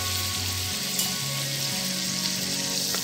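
Oil sizzles steadily in a kadhai with butter while making pav bhaji gravy, a constant bright hiss without speech, with low hums beneath it.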